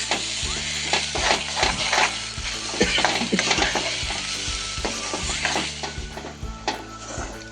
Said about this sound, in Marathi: मसाला चांगला तेल सुटेपर्यंत भाजून घ्यायचा आहे.